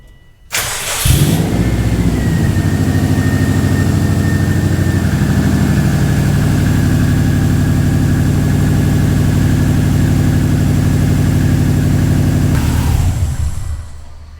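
A 2002 Subaru WRX engine cranks and catches, then settles into a steady, loud idle with a faint whine on top, running for several seconds before cutting off.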